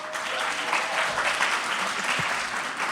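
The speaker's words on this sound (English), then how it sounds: "Let's give him a round of applause, Dr. Dimitris Nasiudis." Steady audience applause for a doctor at a women's cancer fitness and celebration event in Washington, D.C., a dense, continuous patter of many hands heard alone for a few seconds.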